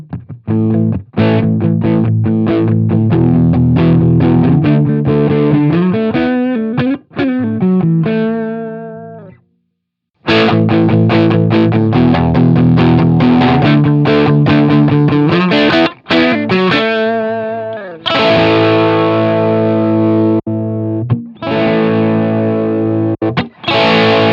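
Distorted electric guitar through an amp, first with EQ at 5 and then fully dimed: loud sustained riffs and chords in several phrases with a short gap near ten seconds, the later section brighter and fuller, no talk.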